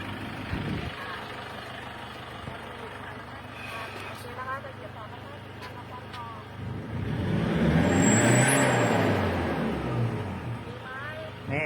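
A Toyota Tiger D4D diesel pickup fitted with a P-SAVE add-on idling and then revved to around 3,500–4,000 rpm to blow out smoke, the engine note swelling loudly midway beneath ongoing talk by a woman.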